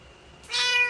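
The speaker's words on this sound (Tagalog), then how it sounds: "Ay, pusa eh." A cat gives a single clear meow close by, rising and then trailing off in under a second, with no voices.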